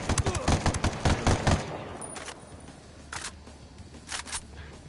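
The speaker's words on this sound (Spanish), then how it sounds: "Está disparando ahí al camión de la bomba" Video game gunfire from Ghost Recon on PS4, aimed at a bomb truck: a dense burst of close shots crowds the first second and a half, then scattered single reports follow at a distance.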